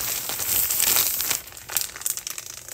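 A plastic bag crinkles and rustles while portions of cooked food and rice are packed into it for the freezer, with dense crackling bursts that are loud at first, then lighter and more broken.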